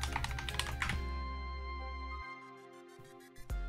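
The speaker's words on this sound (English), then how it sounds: "Type in our password for sudo." Brisk typing of a sudo password on a computer keyboard, with a quick run of close, light key clicks that stops after about a second. A quieter hum follows, then a final key press.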